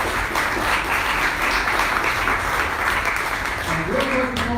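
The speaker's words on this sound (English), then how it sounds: "And let's give Dave a round of applause as he comes up." Steady audience applause welcomes the next presenter coming up to speak, a full, continuous clapping that carries on as a voice begins talking over it near the end.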